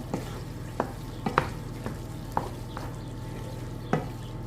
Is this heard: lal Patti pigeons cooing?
no